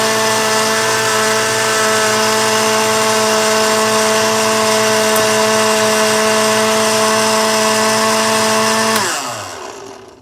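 A blender running on its highest liquefy or frappe setting mixing a yogurt smoothie, a steady loud motor whine held for about nine seconds before being switched off and winding down.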